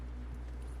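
Steady clip-clop of horse hooves in the video game Red Dead Redemption 2 over a low constant rumble, fairly quiet and continuous with no voices.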